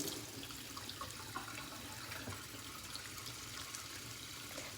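Water runs steadily from a tap into a sink as hands are washed, a continuous near splashing hiss with small irregular spatters throughout, no voices.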